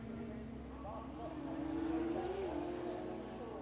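Race cars drift loose through a corner at Lydden Hill, their engines a steady mid-distance drone with a rising whine, heard under continuous commentary.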